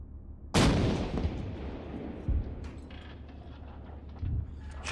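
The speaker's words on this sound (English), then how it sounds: "Load heat. Fire when ready." A tank cannon fires a HEAT round at a BMP in ArmA 3: one sharp, loud blast with a long rumbling tail, followed by softer thuds and faint mechanical clatter.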